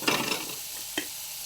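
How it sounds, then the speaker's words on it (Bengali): Onions stirred in a frying pan: a brief scraping stir with a soft sizzle, then a second quick scrape, quiet and close, with no voices. "খুব ভালো করে নেড়ে নিচ্ছি।"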